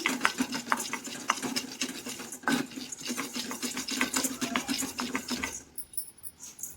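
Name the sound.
stirring chana dal while dry roasting in pan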